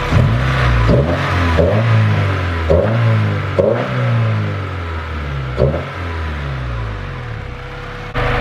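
A car engine, one of a Honda Del Sol or Mazdaspeed3 being readied for winter, revved repeatedly after a throttle cable adjustment, with about seven sharp blips rising and falling over a steady idle, loud and close with no talk.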